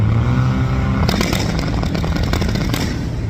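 A turbocharged Mini Cooper held on launch control at about 4,200 RPM gives a loud, close, steady engine drone that turns harsh and crackly partway through, then cuts off abruptly at the end.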